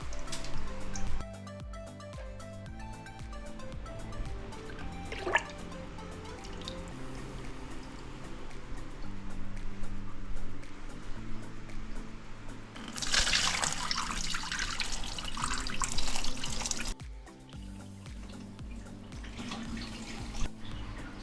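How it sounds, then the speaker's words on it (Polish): Water being poured into a marine reef aquarium, a continuous close trickle and splash with a louder, stronger gush partway through before settling back to a gentler flow. "całą wodę już zalałem do akwarium"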